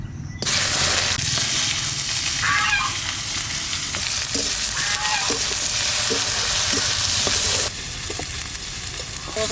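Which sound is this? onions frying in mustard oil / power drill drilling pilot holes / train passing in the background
onions frying in mustard oil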